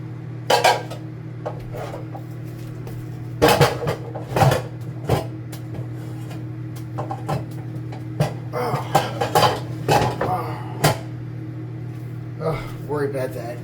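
A Dutch oven pot and other kitchen cookware clank and knock near the microphone in a series of sharp, irregular metallic hits, with a person talking between them and a steady hum in the background.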